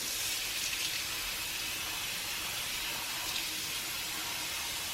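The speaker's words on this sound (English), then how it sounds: "And then I rinse it with hot water." Hot water runs from a kitchen tap to rinse cooked food for burrito bowls, a steady hissing splash that stays even throughout, close by and without speech.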